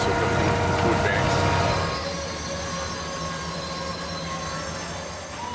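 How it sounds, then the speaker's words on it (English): Canadian Pacific Railway Holiday Train rolling past in Wisconsin, its cars rumbling loudly at close range with a steady roar and faint wheel squeal that eases slightly after the first couple of seconds. "This is the Canadian Pacific Railway Holiday Train."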